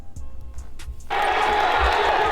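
A crowd at a streetball-style basketball game erupts halfway through, a sudden loud roar of cheering. Before it, brief voices and thumps sound over a quieter background.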